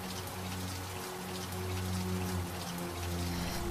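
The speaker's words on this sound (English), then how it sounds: "What are you doing out here in the rain" Steady rain falls outdoors at night, a dense continuous patter of drops with a low rumbling undertone, heard alone without voices.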